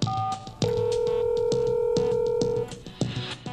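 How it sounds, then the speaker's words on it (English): A steady, continuous dial tone from a Fluke Networks TS53 Pro test set hums for about two seconds, framed by rhythmic clicking and short tonal beeps before and after. "press the speaker key to hear the dial tone"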